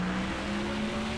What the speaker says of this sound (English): Car's just climbing the hill.